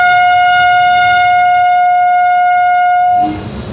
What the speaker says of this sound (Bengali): ট্রেন ছাড়ছে এখান থেকে।